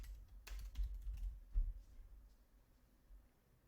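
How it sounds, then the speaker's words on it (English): Typing on a computer keyboard during website building: a quick cluster of key clicks, then a few more scattered keystrokes, close and fairly soft, with no talking. "I'll go ahead and type in some more here."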